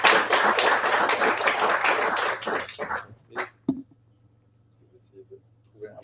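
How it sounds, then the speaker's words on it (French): An audience claps after a tech talk at a React Native meetup in Paris, a dense close burst of applause that thins into scattered claps and fades to quiet within about three seconds, followed by faint voices. "applaudissements"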